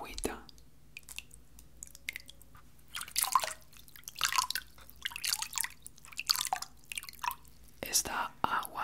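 Warm water dripping and splashing in a bowl before a shave with a disposable razor, small intermittent drips and trickles close up, with soft whispering throughout.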